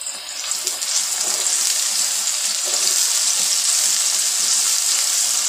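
Cumin seeds dropped into hot oil for gobi gosht produce a loud, steady, rushing sizzle that continues evenly throughout, close and without speech.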